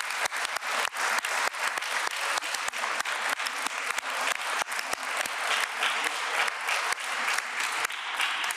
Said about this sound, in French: Je vous propose qu'on l'applaudisse aussi.